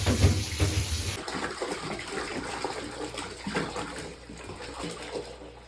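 Water from a tap pours loudly at first, then continues as softer splashing and sloshing while a jar is washed, close by.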